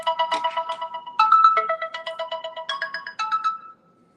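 A phone ringtone for an incoming call plays loud and close, a bright repeating electronic melody in quick pulsing phrases that stops abruptly near the end.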